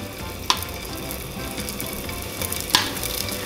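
Pork meatballs pan-frying in hot oil give a steady, dense sizzle at close range, with two sharp pops or spatters standing out.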